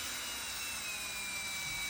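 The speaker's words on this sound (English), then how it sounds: "I'm letting the drill do all the work." A DeWalt drill fitted with a hand mixer attachment runs at a steady, loud, continuous whine throughout.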